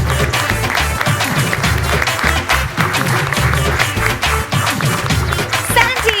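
A studio audience at a Malayalam comedy stand-up show claps loudly and steadily throughout, a dense close burst of applause with no talk.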